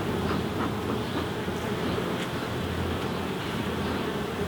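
Honey bees buzz densely and continuously during a hive inspection, a steady close swarm drone with no voices.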